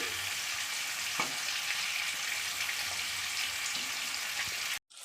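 King fish pieces frying in a pan of oil, a dense continuous hiss and sizzle with a few light knocks, close and steady before cutting off abruptly near the end.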